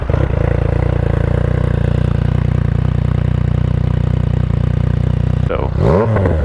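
Motorcycle with a modified exhaust baffle fitted, idling with a steady loud throbbing rumble close by, then a short rev and pull-away at the end as the pitch sweeps up.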